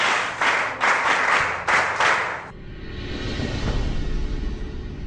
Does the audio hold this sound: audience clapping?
yes